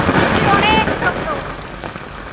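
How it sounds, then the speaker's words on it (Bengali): Steady rain pours outdoors near a rooftop, a dense, continuous hiss with a voice speaking over it early on. "এই তো এখানেও বৃষ্টি বৃষ্টি বৃষ্টি"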